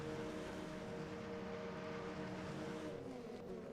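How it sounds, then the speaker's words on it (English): Race car engines revving on the grid before a sprint race start at a motorsport circuit, a steady, faint, continuous droning engine roar with no voices. "Engines are revving."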